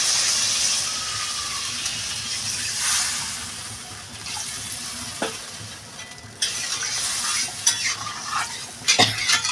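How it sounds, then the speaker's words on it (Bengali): Water poured into sautéed chela fish curry with potato and eggplant, a steady sizzle and stirring that turns to bubbling and splashing in the later seconds, with sharp utensil knocks, close and alone. "এবার আমি পরিমাণ মতো জল দিয়ে দেবো"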